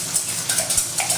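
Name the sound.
whisking eggs in a bowl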